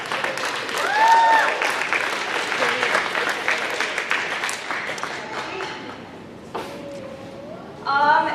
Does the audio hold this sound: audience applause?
yes